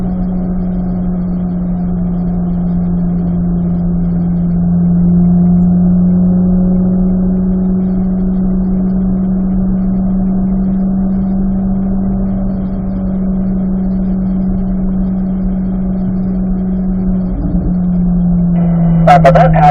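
A car engine holds a steady, low drone after an upshift to fourth gear on a straightaway, loud and constant throughout, with a brief clunk near the end.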